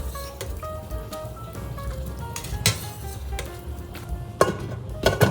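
Washed cauliflower florets are stirred into a pot of pasta cooking for anchovy pasta, with soft close scraping and clinks of a utensil over a steady bubbling, sizzling background, and no one speaking.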